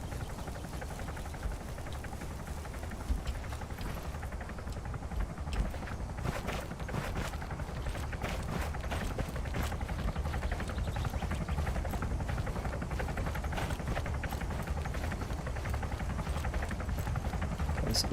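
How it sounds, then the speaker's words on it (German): A helicopter in the Arma 3 military game thuds with rapid rotor beats, a steady loud chopping that grows slightly stronger over time, with faint movement noises around it. "Schon wieder der Heli."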